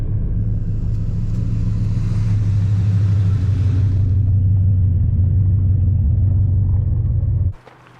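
A 1979 AMC Spirit AMX cruises down a scenic Ozarks road at highway speed, its engine and road rumble loud and steady throughout, cutting off abruptly near the end.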